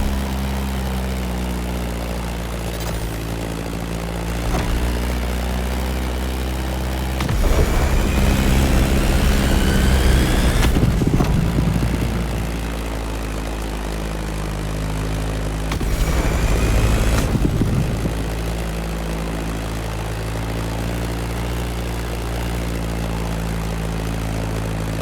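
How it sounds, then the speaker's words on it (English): A Beechcraft Staggerwing propeller plane flies in The Crew Motorfest, its engine a loud steady drone with two swelling surges of heavier roar. "That Beechcraft Stagger Wing is truly a beautiful piece, isn't it?"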